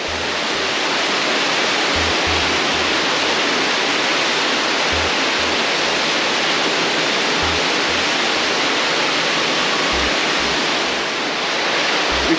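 Water runs steadily down calcite formations inside Ingleborough Cave, a loud, continuous rushing wash that fills the whole stretch with no voices.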